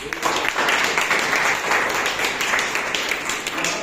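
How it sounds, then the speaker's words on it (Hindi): A crowd applauds steadily, with dense clapping from many hands filling the whole stretch. "जोरदार ताली भाई जी के लिए"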